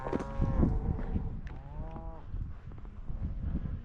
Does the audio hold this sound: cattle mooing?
yes